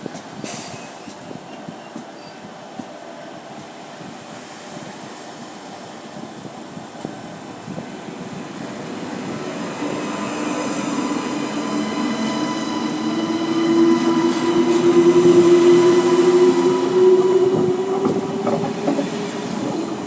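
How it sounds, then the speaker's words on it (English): A passenger train bound for Paris passes, starting as a faint distant rumble and swelling into a loud, close roll of wheels and rising tonal whine before easing slightly at the end. "My friend Gloria is on her way back to Paris on this train."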